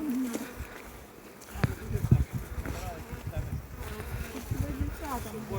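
Honeybees buzzing around hives at a busy apiary, a steady close insect drone running through the whole stretch with people talking over it.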